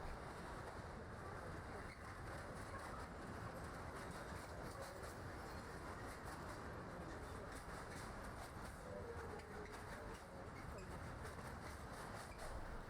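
A freight train rolls past on the Brenner Railway in winter, a steady rumbling wash of wheels and wagons with faint clickety-clack that holds at an even level throughout, with a voice talking over it.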